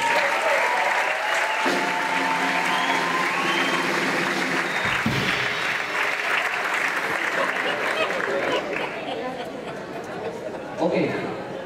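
Audience applause breaks out for the driver at a live concert by a quartet and big band, a steady dense clapping with crowd chatter that carries on throughout and thins slightly toward the end.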